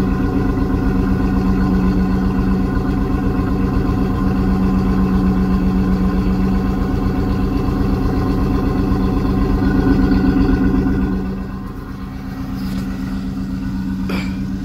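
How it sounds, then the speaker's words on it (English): A 1994 Chevy Suburban with a 454 big block V8 idles close by, a deep, steady, loping rumble that carries evenly before dipping slightly and settling near the end. "Let's just listen to this idle for a second to appreciate this big block."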